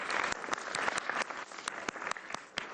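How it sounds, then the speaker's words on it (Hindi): Faint, thin applause for the Indian cricket team's T20 World Cup win, a brief patter of scattered hand claps, some sharper single claps standing out, with no voices over it. "इंडिया के लिए तालियां।"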